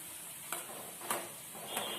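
Boondi fries in hot oil on high heat as a spoon stirs it, giving a soft steady sizzle broken by three light scraping strokes.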